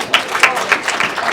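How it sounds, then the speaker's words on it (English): Audience applause at a political party launch event: a brief burst of clapping with several sharp, distinct claps standing out over a softer patter, close and fairly loud. "Yes, give them a round of applause."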